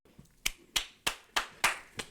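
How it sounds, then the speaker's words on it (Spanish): A single person claps alone, six sharp claps in a slow, even rhythm, close and fairly quiet with no talking. "Yo aplaudo por mí ya solo."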